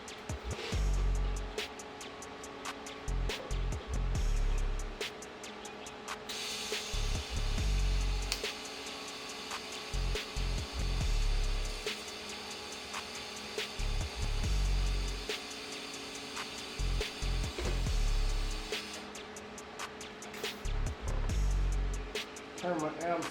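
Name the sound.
tack welding a custom K24 downpipe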